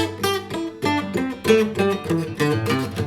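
Electric or acoustic guitar picking a scale note by note, slightly uneven and sloppy, with notes ringing into each other in a steady stepwise rhythm, close and clear with no talking.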